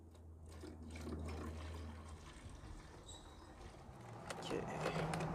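Water pours steadily into the bottle of an MJJC Foam Cannon Pro 2, a soft continuous rushing fill heard close up that grows slightly fuller toward the end, while a voice talks quietly over it.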